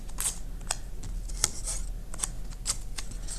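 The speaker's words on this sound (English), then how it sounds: "tape the corners of your drawing down so it stays nice and flat" Tape is pulled and pressed onto the corners of a drawing being matted onto board, making close, crisp crackling bursts and short tearing snaps at an irregular rhythm.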